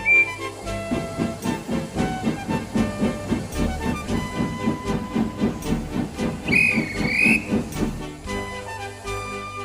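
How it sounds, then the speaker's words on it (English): A steam locomotive chuffs in a steady rhythm, and partway through a shrill steam whistle sounds once over the puffing train. "Wheesh! Percy gave his ghostly whistle."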